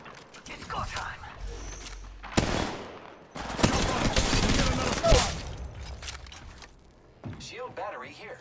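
Bursts of rapid gunfire and clattering mechanical effects sound in an Apex Legends Mobile match, loud and overlapping with a character's voice lines and game chatter.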